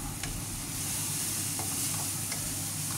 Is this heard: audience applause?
no